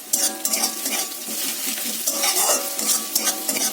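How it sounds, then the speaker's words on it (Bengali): Onions frying in a wok while a spatula stirs them, a steady sizzle broken by repeated scraping and clinks of metal on the pan, close and fairly loud, with no voices. "আর এদিকে দেখি পেঁয়াজটা কতটা ভাজা হয়েছে।"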